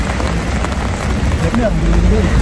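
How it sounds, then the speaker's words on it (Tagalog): Steady, loud rain falls at Lake Como in Italy, a dense wash of drops hitting surfaces nearby, with faint voice-like sounds briefly underneath. "ang Lake Como dito, maulan ngayon"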